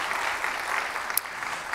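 Church congregation clapping together, a dense, even wash of applause at moderate volume, sustained without pause and with no voices over it.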